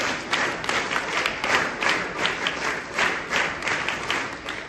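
Students at a school investiture ceremony perform a scout clap, a rhythmic group clap with regular pulsing bursts repeating about every half second, loud and unified across the whole stretch.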